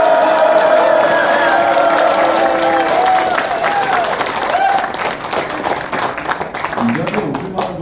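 An indoor audience at a founding ceremony in a small National Assembly meeting room cheers and applauds loudly. Whoops and shouts carry the first seconds, then claps continue, thinning toward the end, with voices heard among the crowd.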